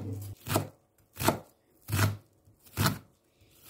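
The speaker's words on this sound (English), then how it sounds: "Then chop 1 medium size of onion to cut into cubes." Garlic and onion being chopped into cubes on a board, four evenly spaced knife chops, close and crisp, with quiet pauses between them.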